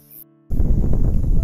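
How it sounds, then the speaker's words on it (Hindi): Strong wind blowing over hillside fields in Uttarakhand, a loud gusting rush buffeting the microphone, starting abruptly after a brief quiet moment. "और बहुत ही तेज हवा की आवाज़ आप सुन सकते हैं"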